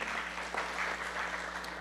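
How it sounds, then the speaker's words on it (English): Dense, steady applause from an audience at an annual general meeting in Texas, a continuous wash of clapping with no pauses, moderately loud and even throughout. "Clap for him, please."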